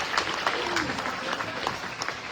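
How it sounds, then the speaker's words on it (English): Audience applause for the kids in the ring at a junior livestock show, a steady wash of clapping throughout the short stretch at moderate distance, with faint voices mixed in. "let's give all the kids a round of applause for coming back and their efforts out here today"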